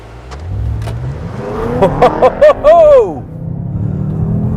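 A BMW M5 launching hard in manual mode, its engine revving through a rising, sweeping note over low road rumble, with a few sharp bursts near the peak before it settles back.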